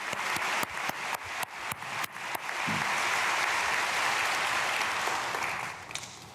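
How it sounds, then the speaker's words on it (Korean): A church congregation claps during a dawn prayer service at Myungsung Church; the applause swells into a dense, sustained roar for several seconds before fading. "지혜호와 지아에게 박수"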